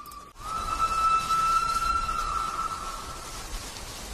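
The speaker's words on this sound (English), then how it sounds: "in the distance, we can hear a whistle." A steam locomotive whistle from the film Thomas and the Magic Railroad sounds as one sustained, steady tone held for a few seconds, with a soft hiss behind it before it trails off.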